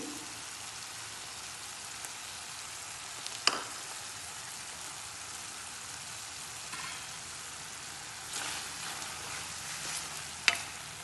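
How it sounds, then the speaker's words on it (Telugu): Ridge gourd pieces frying with garlic and chili powder in a pan give a continuous close hiss of sizzling oil, broken by a few sharp scrapes of a stirring spoon. "ఎల్లిపాయి కారం అన్నీ ఫ్రై అవ్వాలి బీరకాయ ముక్కలతో పాటు"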